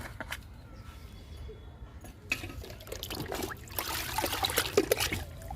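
Liquid fertilizer is poured onto flowering plants, with intermittent trickling and splashing that grows fuller and louder toward the end, close by and without talk.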